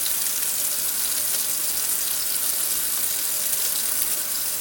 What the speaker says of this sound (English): Okay, so the water's on.